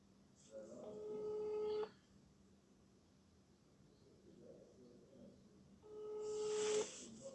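An outgoing phone call ringback tone sounds twice, faint and steady, with each ring lasting over a second and a long quiet gap between them over low background hiss.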